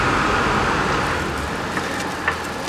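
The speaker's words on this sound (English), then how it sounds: "Here's a little bus stopping." Street noise in Shibuya, Tokyo, as a small city bus pulls to a stop, a steady broadband rumble of engine and traffic with a couple of faint brief clicks near the end, no voices.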